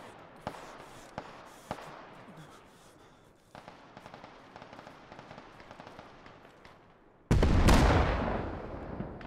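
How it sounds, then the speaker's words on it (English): Mortar and gunfire in Arma 3 combat: several sharp distant blasts and cracks in the first seconds, then a sudden loud, sustained roar of an explosion or barrage near the end. "We have also taken mortar fire."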